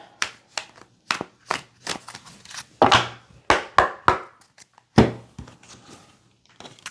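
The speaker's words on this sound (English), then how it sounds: "I cleanse, shuffle, and I meditate" Tarot cards are shuffled by hand, making a series of irregular slaps and soft taps with brief pauses between them.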